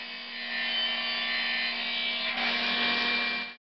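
Table saw cutting timber rails with the blade set at a 45 degree angle: a steady, loud whining cut with a constant motor hum, running evenly for about three and a half seconds before stopping abruptly.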